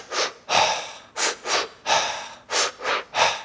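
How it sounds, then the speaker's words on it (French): Deep, rhythmic breathing cycles during a concentration exercise, about eight loud, airy breaths in quick succession, alternating inhales and exhales, close and alone with no talk. "tu vas faire quelques cycles respiratoires."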